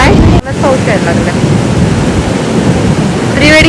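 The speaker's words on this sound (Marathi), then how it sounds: "काय पाऊस यायला लागला." Steady rain with rumbling thunder on a Goa trip, a dense, loud roar with broad wash through the clip and a brief dip near the start, under faint talk.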